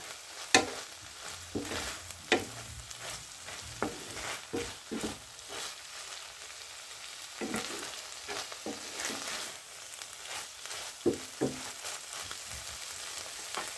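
A spoon stirs a tuna omelette mixture seasoned with salt, giving a quiet run of scraping and clinking strokes at irregular intervals over a faint background sizzle, with no voices.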